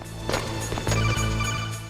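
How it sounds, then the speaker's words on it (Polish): Telephone ringing inside the Metal Gear Solid video game, a steady electronic ring with repeating pulses over low game background sound, clear and fairly loud, with no talking. "No, znowu telefon."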